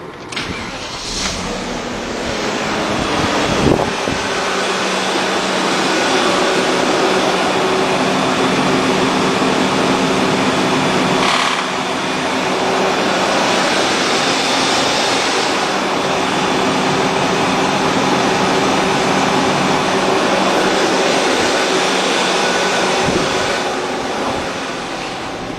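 The auxiliary air-conditioning fan of a BMW E39 runs with the engine on, a steady loud whooshing hum that holds level throughout, with a few brief clicks or thumps near the start.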